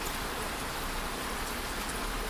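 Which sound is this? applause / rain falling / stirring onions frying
rain falling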